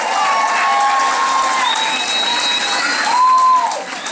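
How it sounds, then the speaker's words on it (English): A middle school audience applauds and cheers steadily, with children's whoops and shouts rising above the clapping throughout. "Please give her a round of applause."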